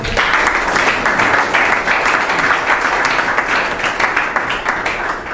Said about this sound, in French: Je vous demande d'applaudir pour lui.